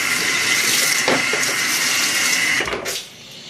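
Tap water gushes loudly and steadily while homebrewing equipment is rinsed after chilling. The flow cuts back near the end, leaving a quieter trickle.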